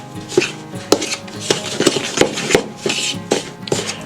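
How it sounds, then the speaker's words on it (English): Dandelion fritter batter seasoned with basil and paprika, stirred in a bowl: a run of close, uneven scraping and knocking strokes at a steady loose rhythm, fairly loud and alone. "Then stir it all up."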